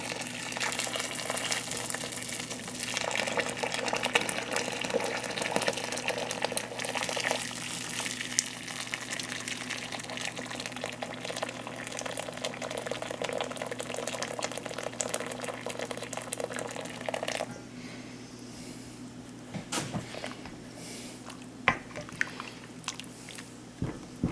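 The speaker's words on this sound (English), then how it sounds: "Taking my kettle, which is a gallon kettle, and I'm just gonna pour pretty much all of it in there" Hot water poured steadily from a gallon kettle onto honey for mead, a continuous splashing pour that runs loudly for about seventeen seconds, then gives way to quieter trickles and a few sharp knocks.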